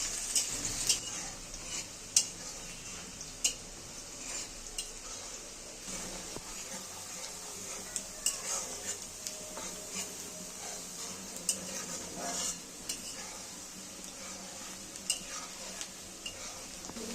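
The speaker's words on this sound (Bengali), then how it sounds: "এখন আমাদের তেলটা গরম হয়ে গিয়েছে, এখন আমরা অল্প করে কিছু পেঁয়াজ ভেজে নেব।" Onions fry in hot oil for a garnish while a Bangladeshi shutki bhorta is made. A steady, bright sizzle runs throughout, with occasional sharp ticks and clinks of a stirring utensil against the pan.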